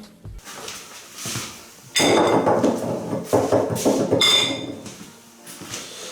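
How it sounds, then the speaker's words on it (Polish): Candies clatter into glass jars, giving sharp clinks and knocks that start as a single tap and then turn into a dense rattling stretch, followed by liquid alcohol being poured over them, with no talking. "wrzucam cukierki do słoi i zalewam je alkoholem"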